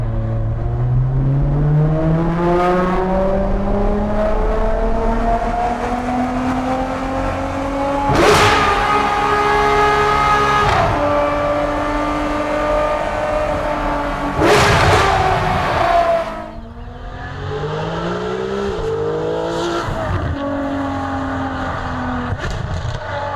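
A Ferrari 599 GTO V12 revs hard on the road, its loud, close engine note climbing steadily through the gears with sharp upshift breaks and a brief lift before pulling again. No voices are heard.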